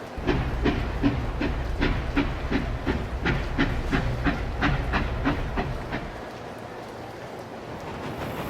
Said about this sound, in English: The conductor blew his whistle, and Gordon set off with his new coaches.